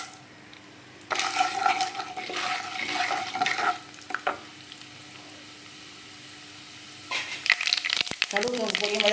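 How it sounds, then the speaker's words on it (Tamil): Mustard seeds and chana dal fry in hot oil in a pan for a bun dosa chutney, bursting into a loud close sizzle that fades, then crackles and stirs again. "இப்போ இந்த கடுகு தோற்பு கடலை பருப்பு தாச்சிக்கலாம்."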